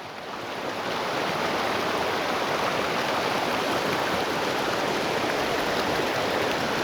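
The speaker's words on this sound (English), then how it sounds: "Look at that water running over that road." Water rushing steadily over a road on a mountain route to Big Bear Lake, California, forming a loud, continuous broadband wash that swells in over the first second and then holds even with no talk.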